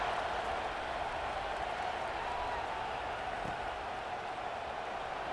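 A steady, dense roar from a packed stadium crowd at kickoff in a PS5 college football game featuring Ohio State, holding an even level with no individual voices standing out.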